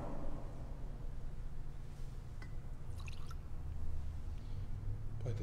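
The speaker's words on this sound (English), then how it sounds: "By the mystery of this water and wine, may we come to share the divinity of Christ who humbled himself." Water poured into wine at the offertory of a Catholic Mass in a church, a soft trickling and dripping pour heard faintly under the room's low background hum, with no voices.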